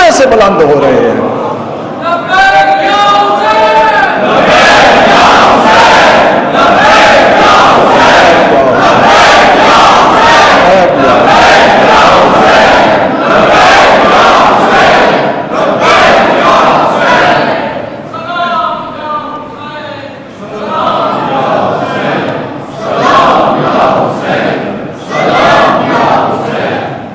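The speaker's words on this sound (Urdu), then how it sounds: "لبیک یا حسین کے نعرے اس پوری زمین کے ذرے ذرے سے بلند ہو رہے ہیں" A large religious gathering raises loud, rhythmic chanted slogans of Labbaik ya Hussain, massed voices surging in repeated bursts with short pauses between, close and powerful throughout.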